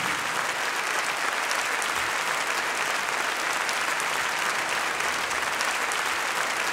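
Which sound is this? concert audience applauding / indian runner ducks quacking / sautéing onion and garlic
concert audience applauding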